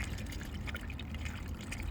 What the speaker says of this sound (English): get a little bit of a swish in the muddy water